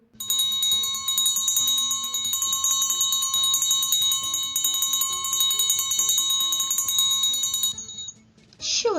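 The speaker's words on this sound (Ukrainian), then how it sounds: "це дзвенів дзвіночок" A small bell rings steadily with bright, sustained metallic tones, close and fairly loud, then stops abruptly near the end.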